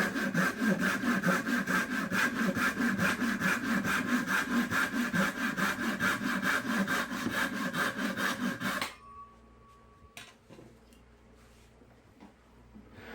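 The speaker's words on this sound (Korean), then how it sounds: "오랜만에 긴 톱질을 하는데 생각보다 톱질이 잘 되죠?" A hand saw cuts through wood in long, rhythmic back-and-forth strokes, loud and close for about nine seconds, then stops, leaving faint handling noises and a brief tone.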